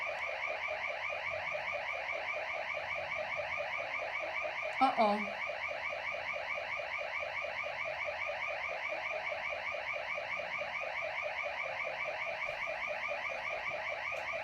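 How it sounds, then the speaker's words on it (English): A house alarm goes off, giving a steady pulsing electronic tone that holds throughout. A brief voice cuts in partway. "pardon me for having my alarm from the house go off"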